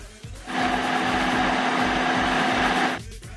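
A blender grinds fish dough with cold water for pempek, a loud, steady whirring roar that starts abruptly, holds for about two and a half seconds and then stops, with brief clatter before and after.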